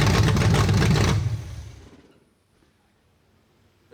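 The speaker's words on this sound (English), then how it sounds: "We finally got the timing sorted out to where the engine would run on its own" A 1972 Chevrolet Nova engine with a long-unused carburetor runs loud and rough after a timing adjustment, then shuts off and winds down to near silence within about two seconds.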